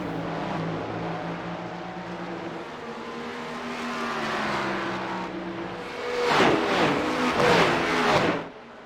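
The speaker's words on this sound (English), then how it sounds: "Buster and Young linked up nose to tail, have put over half the field a lap down here." Porsche Cup race cars running nose to tail during a 50-minute feature event at Belle Isle, engines droning steadily before two cars sweep past close by, loud and near, with no talking.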